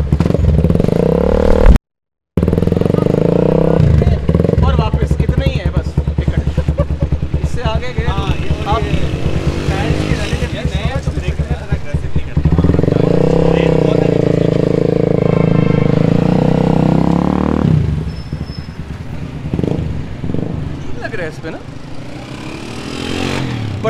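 A Super Star 200 motorcycle engine runs loudly and steadily, rising and falling in pitch as it revs, with a brief cut near the start.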